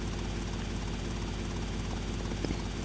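A helicopter in GTA Vice City: The Definitive Edition drones loudly and continuously, its dense rotor and engine noise filling the whole clip up close with no talking.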